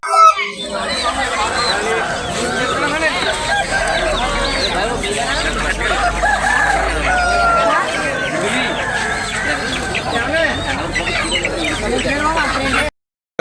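Roosters and hens at the Gokavaram village market cluck and call close by, mixed into a busy wash of crowd chatter and nearby talking.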